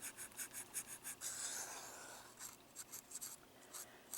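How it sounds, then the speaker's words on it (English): A dry cloth is rubbed over a grate on an N scale model train: soft, close, rhythmic brushing strokes with a quiet scratchy texture, faint and steady, with no voices. "I'm going to take the dry side and I'm going to run over this grate up here on top"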